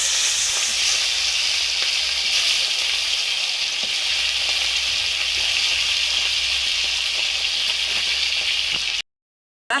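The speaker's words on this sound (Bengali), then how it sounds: "তেলটা আমার তেতে গেছে মাছগুলো তুলে দেবো" Koi fish frying in hot oil, a steady, fairly loud hiss of bubbling oil with faint crackles throughout, close up and without speech, cutting off abruptly near the end.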